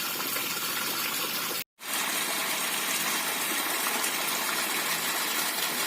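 Water gushing steadily to fill catfish breeding pools, a loud close rushing flow broken by one brief cutoff before it resumes without talking.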